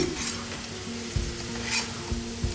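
Onions fry with salt in a pan, a close steady sizzle with a few knocks and scrapes of a spoon stirring, no voices.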